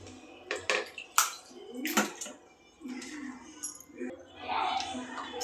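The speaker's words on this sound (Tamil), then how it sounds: "நல்லா அலசி ஒரு பெரிய இட்லி சட்டி எடுத்துக்கிட்டேன். கழுவி எடுத்துக்கலாம்." A large idli pot being rinsed and washed with water: splashing and pouring come in uneven surges, with metallic clinks of the pot, and a voice talks over the washing.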